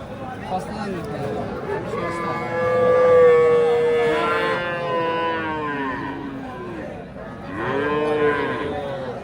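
A calf moos with a long, drawn-out call, then a second shorter moo. Voices murmur faintly in the background.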